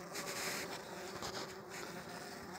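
A weak honeybee colony with exhausted honey stores hums at the hive during a winter inspection, a close, steady buzz with faint handling rustles and no voices.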